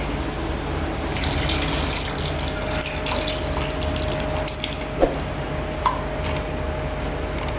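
Tamarind juice pouring steadily into a pan of cooking sambar, a continuous close liquid splashing and gurgling stream with a few small clinks toward the end.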